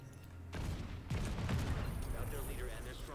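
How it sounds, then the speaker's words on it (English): A C4 charge detonating in the shooter game The Division 2, a sudden broadband blast followed by a sustained rumbling roar with crackling debris and game effects. "5, 4, 3, 2, 1, and explosion."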